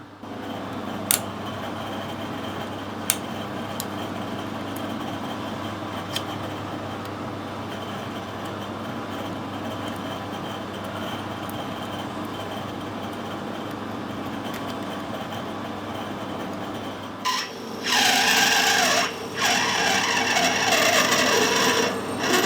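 Lathe screw-cutting a brass tractor radiator cap, a steady mechanical whir and rubbing drone with occasional light ticks, then a louder harsher cutting burst near the end.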